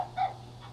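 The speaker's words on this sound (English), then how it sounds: "Crypto the Super Dog" A single short dog bark from Krypto the Superdog in a Batman video game, a quick yip over a steady low game hum.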